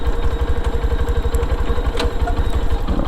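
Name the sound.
Lifan KPR200 motorcycle engine while riding in second gear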